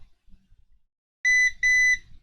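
A multimeter continuity tester on a Quansheng UV-K5 radio board gives two clear electronic beeps in quick succession after a brief quiet stretch with faint handling noise, the tones close and steady.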